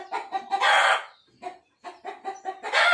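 A rooster crows loudly and clucks in bursts close by, with fowl-like squawks and calls separated by short pauses over about three seconds.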